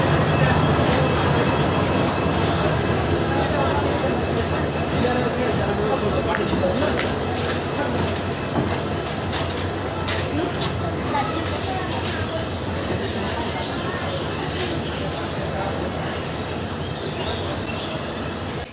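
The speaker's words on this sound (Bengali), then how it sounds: "এটা হচ্ছে উত্তরবঙ্গের পার্বতীপুর রেলওয়ে জংশন" Ambience at Parbatipur railway junction in North Bengal: a dense, continuous station rumble with train noise, clanks and a murmur of people throughout.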